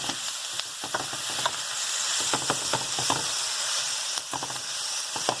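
Fajita meat and vegetables sizzle steadily in a hot pan while a utensil stirs them, with repeated scraping clicks over a continuous frying hiss.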